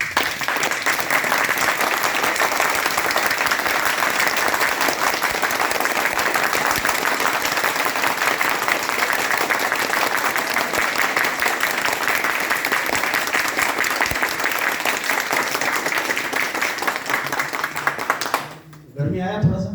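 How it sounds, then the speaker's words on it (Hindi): An audience at a meeting in Gorakhpur claps together in a quick, even rhythm for about eighteen seconds. The loud, close clapping stops abruptly near the end, and a voice can be heard along with it. "चलिए ताली जैसा बजाऊंगा वैसी बजाना है"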